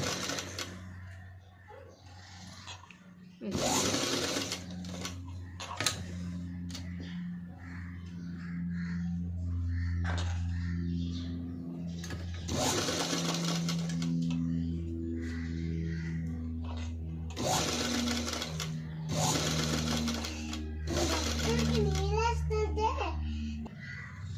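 A sewing machine stitches piping onto a padded blouse in several short, rapid whirring bursts separated by pauses, while a person talks throughout.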